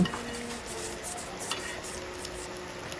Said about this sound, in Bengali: এবার আমি এটাকে মাংসের মধ্যে ঢেলে দিব